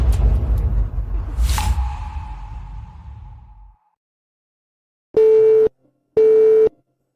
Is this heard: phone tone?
yes